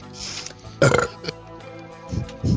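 A man lets out a loud, close burp, a rough croaking eruption followed by a few shorter gurgling bursts, with no talk over it.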